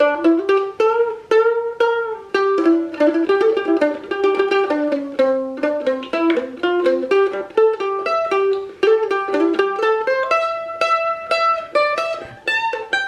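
A mandolin picks the second part of a song, a brisk flowing melody of bright, evenly plucked notes, close and loud, played alone without any voice.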